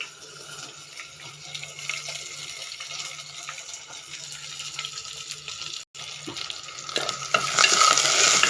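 Whole garam masala, bay leaf, chopped onions and green chillies frying in oil for bagara rice, a steady close sizzle with stirring scrapes, growing louder and brighter toward the end.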